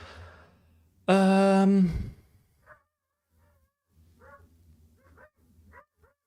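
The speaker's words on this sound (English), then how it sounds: "Dog barking outside my house." A dog barks once, loud and close, with a harmonic howl-like bark lasting nearly a second, then a few faint, scattered short yips and rustles follow outside a house.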